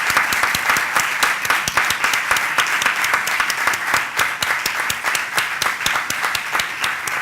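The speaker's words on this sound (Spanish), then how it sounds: "nos gustaría terminar con un recuerdo y un gran aplauso para ella" A seated audience at the close of a tribute claps for an honoree and all present. It is sustained, crisp and lively, with a dense run of individual claps from start to finish.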